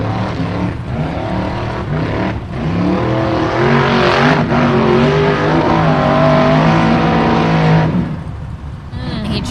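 A 1,000+ horsepower offroad racing buggy roars loudly and steadily at an offroad park hill climb, its engine revving with rising and falling pitch, and crowd voices mix in beneath it.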